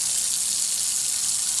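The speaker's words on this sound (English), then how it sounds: "So turn on the water," Water rushing from a lab tap turned on for vacuum filtration: a steady, loud, hissing stream running continuously and close by, with no talking.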